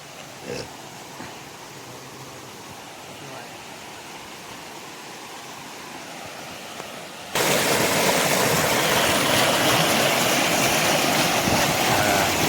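Steady rushing stream water at Bhavnath near Girnar, Gujarat, quieter at first and then much louder and closer for the last few seconds, a continuous broadband roar with no talking.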